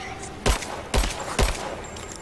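Three separate gunshots from a video game fire at roughly half-second intervals, each a sharp, loud broadband crack with a short tail, over a steady low background hum.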